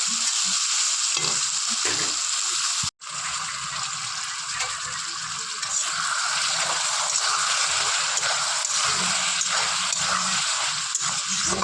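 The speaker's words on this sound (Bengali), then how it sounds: "কিছু মশলা দিয়ে রাখার জন্য এটা ভালো করে কষতে হবে" Spiced curry with potatoes sautéing in a covered pan, a loud, continuous frying sizzle with a brief break early on and faint scraping stirs throughout.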